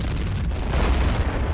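Weapon fire and explosion in a video game with a US expansion update, a dense, loud rumbling blast that fills the whole moment without pause.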